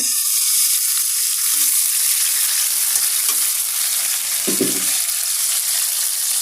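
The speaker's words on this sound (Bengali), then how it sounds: "সামান্য একটু পানি দিয়ে দিচ্ছি পেঁয়াজটা ভাজা হয়ে গেছে" Fried onions in a cooking pan for hilsa fish head curry sizzle loudly and steadily after a little water is added, with a few scraping stirs near the middle.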